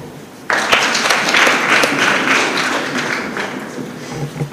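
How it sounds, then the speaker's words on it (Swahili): A crowd applauding after a speaker's line, bursting in suddenly and sustained for several seconds before slowly fading, with loud close claps. "Makofi."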